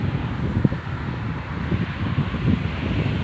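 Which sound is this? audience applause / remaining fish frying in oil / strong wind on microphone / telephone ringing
strong wind on microphone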